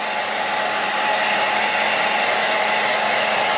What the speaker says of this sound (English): it's a hairdryer, don't worry about it